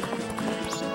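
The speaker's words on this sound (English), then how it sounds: "Gallop, you horse." Galloping horse in the Majora's Mask video game, a quick run of rhythmic clip-clop hoofbeats with a brief whinny, close and clear over a second of play.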